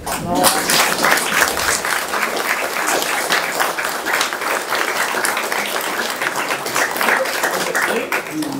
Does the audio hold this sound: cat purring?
no